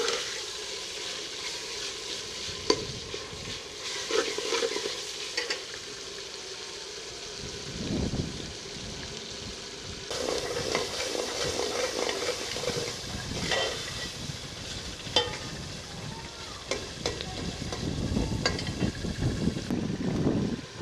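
Tomatoes and onions frying and being stirred for achari chicken, a steady hiss and sizzle running throughout with occasional stirring scrapes and clinks, close and fairly even.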